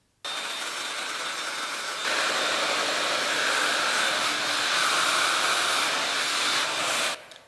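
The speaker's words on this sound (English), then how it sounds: "So I'm gonna grab my Pattern Beauty blow dryer diffuser." A Pattern Beauty blow dryer fitted with a diffuser switches on and roars with a steady, loud airy whoosh, steps up to a stronger setting after a couple of seconds, then cuts off.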